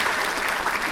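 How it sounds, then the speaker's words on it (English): Under a second of dense, even clapping from a group at the RISK 2020 cybersecurity event, a close, steady patter with no voices on top. "Round of applause for you, definitely."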